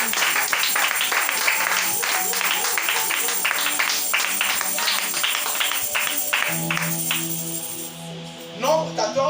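A church congregation applauding and cheering for the Lord, dense sustained clapping with voices mixed in, loud and close, thinning out near the end as tonal voices take over.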